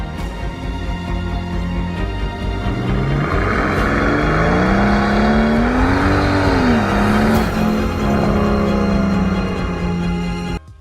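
A powerful V12 engine in a Brabus C V12 Bullit Mercedes W204 revs loudly and continuously, its pitch climbing and falling through the rev range, close up with no talking.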